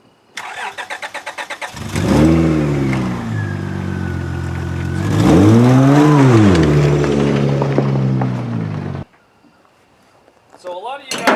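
An endurance race car engine is started and revved loudly as the car is pulled out, rising and falling in two strong surges over steady rumbling idle, then cutting off abruptly, with a brief clatter after.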